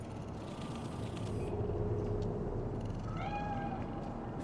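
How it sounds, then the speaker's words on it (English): A cat in Cyberpunk 2077 lets out a short meow near the end, heard over a steady city ambience with mechanical creaks and hum. "Do you see it? That cat?"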